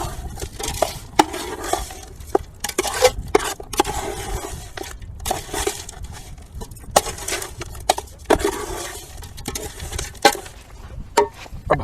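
A spoon stirs masala into Hyderabadi dum biryani in a cooking pot, making steady, close scraping and clinking strokes against the metal in an irregular rhythm.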